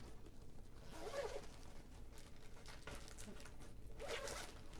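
Two quiet zipper pulls on a zipper pouch a few seconds apart, each a short rasping zip, heard close up against a low background.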